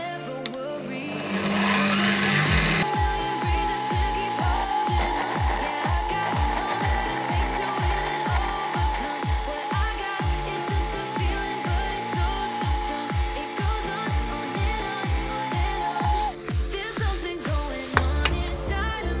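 A drill press bores holes in parts for a cat scratching post module, running as a steady loud whine with a rapid regular series of low pulsing thumps throughout, then winding down near the end.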